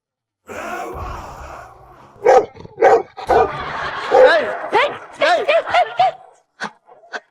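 A dog gives a series of short, irregular barks and yips close by, mixed with breathy sounds and pauses.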